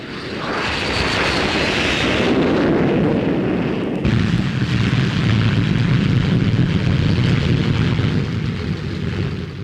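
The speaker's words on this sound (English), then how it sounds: "the P-1067, the fastest fighter flying today" Roaring jet engine of a P-1067 fighter aircraft in flight, a loud continuous broadband rush that shifts in tone midway as the jet passes, with no talk over it.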